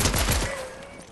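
Rapid burst of heavy gunfire from a gold heavy weapon in Fortnite, several loud close shots in quick succession tapering into a ringing decay.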